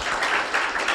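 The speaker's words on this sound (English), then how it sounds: "let's give everybody a round of applause" Brief burst of audience applause at a college pitch competition final, dense clapping at an even, full level for about a second.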